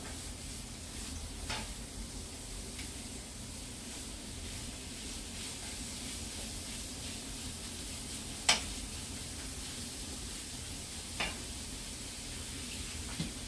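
Carrots and onion frying together in a pan, a steady soft sizzle running throughout with a few brief clinks or stirring taps, no voices.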